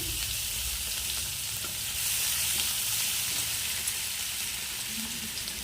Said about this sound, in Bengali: ওই একই তেলের মধ্যে আমি একদম কুচি কুচি করে দেখো পেঁয়াজ দিয়ে দিলাম